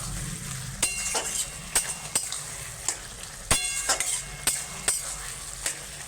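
Ash gourd curry stirred in a pan, a steady low sizzle broken by repeated sharp scrapes and clinks of a spatula against the metal, close and fairly loud with no talking.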